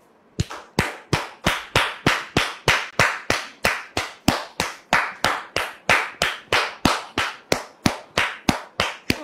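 A steady run of single, rhythmic hand claps, about three per second, sharp and fairly close, welcoming a guest on a French-language show; no talking over it.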